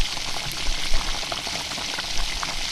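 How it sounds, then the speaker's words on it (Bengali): Water poured over frying ground spices in a pan while cooking snails (gugli) for a kosha curry, giving a dense, continuous hiss and sizzle up close with no voices. "এবারে ওপর থেকে কিছুটা পরিমাণে জল দিচ্ছি যাতে গুঁড়ো মশলাগুলো পুড়ে না যায়"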